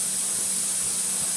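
Steam hissing steadily from the vent of a pressure canner while canning beef stew, a loud continuous close-up hiss with no talk.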